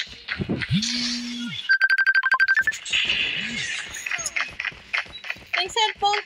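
A cellphone ringtone during a game session, a rapid run of bright electronic beeps in the middle, mixed among busy clattering game effects and brief voices.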